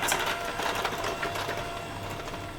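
Sponge cake batter with milk and bitters being mixed in a bowl, likely with an electric mixer, giving a steady close whirring buzz throughout with no speech.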